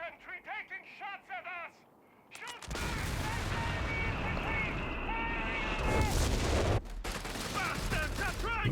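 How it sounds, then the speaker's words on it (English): Sustained infantry gunfire in a Company of Heroes 3 2v2 match: a dense, continuous volley of rifle and machine-gun shots that starts abruptly after a brief voice and rolls on loudly for several seconds with scattered sharper cracks. "Infantry taking shots"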